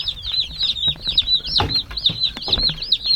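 Meat chickens in an outdoor brooder cluck and peep continuously, a busy chorus of high, rapid chirps up close, with a few scuffling thumps beneath and no talking.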